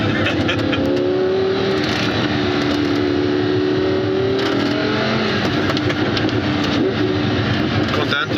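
A Caterham sports car skids on a mountain road, its engine revving loud and continuous up close while tyres scrub, with people talking and shouting excitedly over it.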